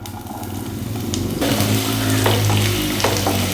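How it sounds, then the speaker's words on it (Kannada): Loud, steady sizzling of onions frying in hot oil for palak palya, a dense crackle that swells after a quieter start, with occasional stirring clicks and no voices. "ಸ್ವಲ್ಪ ಎಣ್ಣೆ ಬಿಸಿ ಆದ ತಕ್ಷಣ ಈರುಳ್ಳಿ ಹಾಕ್ಬೇಕಕ್ಕ"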